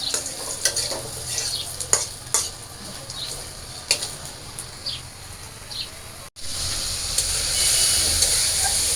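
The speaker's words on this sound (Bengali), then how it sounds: "এই যে আমার আলু দিয়ে মশলাটা দিয়ে কষানো হয়ে গেছে" Potatoes with bay leaf, cumin and spices being fried in oil in a pan, with continuous sizzling, scattered stirring scrapes and a hissing rise toward the end.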